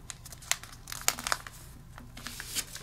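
Paper crinkling and creasing as flaps are folded over to wrap money as a gift, a series of close, crisp rustles and crackles with brief sharp peaks.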